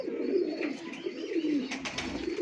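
Teddy pigeons cooing in a loft, soft throaty rolling coos that repeat steadily and close by, with a few brief higher chirps near the end and no voices.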